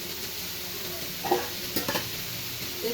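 Carrot, onion stalks and capsicum being stirred in a frying pan, with a steady soft sizzle and a few brief scraping stir strokes near the middle of the clip.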